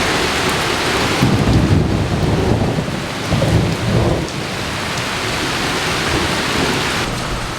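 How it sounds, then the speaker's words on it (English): Steady rain falls outdoors at dawn on a large estate lawn, a loud continuous hiss of drops on surfaces with low rumbling beneath, and no voices. "I think it's raining. Just a wee bit."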